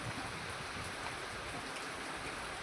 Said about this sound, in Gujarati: પાછો વરસાદ ચાલુ થઈ ગયો છે જુઓ